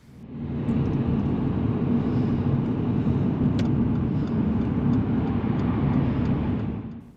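Heavy traffic on a 70 mph dual carriageway, heard as a steady, loud road rumble with tyre and engine roar that swells in and then holds evenly, with no one talking.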